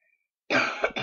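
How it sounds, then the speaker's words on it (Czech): A single harsh cough bursts out after half a second of silence, followed by a short throat-clearing rasp, close and loud, with no talking. "Jinak taky se omlouvám za ten kašel"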